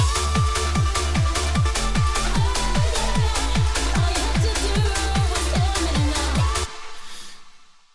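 A supersaw synth with the second sound layer engaged plays a bright, full chord pattern with a steady pulsing bass. It stops abruptly near the end and leaves a fading tail.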